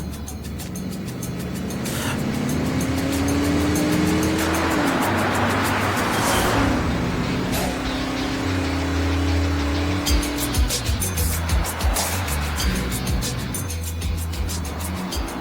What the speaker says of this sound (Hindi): चलो गाड़ी तेज भगाओ।